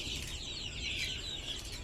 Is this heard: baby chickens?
yes